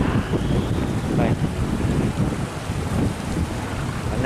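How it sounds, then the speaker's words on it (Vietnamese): A barge motoring slowly downstream through strong current past a sluice gate, a steady low engine rumble and rushing water under heavy wind buffeting, continuous throughout. "cái phương tiện xà lan của mình đang ghe xuống từ từ đây các bạn"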